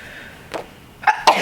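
A single person sneezes indoors on an allergy-heavy day, a short breathy intake followed by two sharp bursts close to the microphone.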